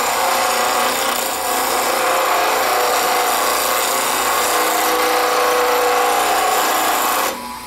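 A woodturning tool is held in a V-block against a spinning grinding stone, making a loud, steady, harsh rasping grind that runs for about seven seconds before cutting off.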